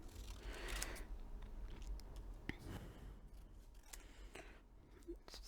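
Scissors snip through paper to cut printed words apart for a recycled greeting card, giving a quiet, close series of crisp crunching cuts in an otherwise hushed room.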